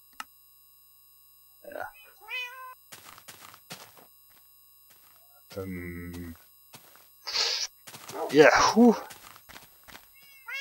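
Cat meowing in a Minecraft-style hardcore video game, several short, bright meows scattered among other game sounds, with someone speaking briefly in between.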